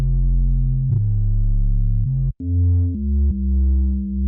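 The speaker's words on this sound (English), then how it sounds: "It's just the FM sound and then a little bit of detune." A low FM synth bass built from two detuned sine waves plays a few sustained notes with a warbling pulse, each note changing pitch cleanly.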